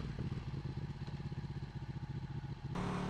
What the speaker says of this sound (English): Third gear power wheelie